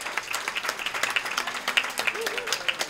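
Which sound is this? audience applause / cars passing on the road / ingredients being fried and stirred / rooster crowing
audience applause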